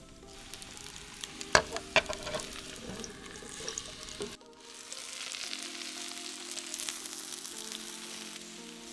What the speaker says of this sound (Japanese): フライパン、多人鍋、ホットプレートなどに油を熱し、お野菜を入れて蒸し焼きにしていきます。